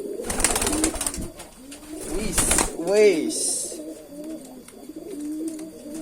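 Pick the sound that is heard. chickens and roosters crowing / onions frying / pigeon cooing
pigeon cooing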